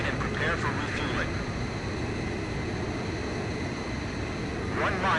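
Steady roaring jet engine drone of a fighter plane in the combat flight game Ace Combat 5, loud and continuous throughout, with radio voices speaking over it.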